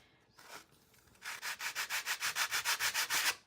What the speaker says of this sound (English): and sand that edge just a little bit